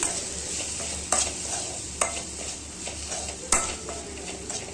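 Egg fry with chilli powder being stirred in a pan, a steady sizzle of frying under a few distinct spoon scrapes and knocks against the pan, with no voices.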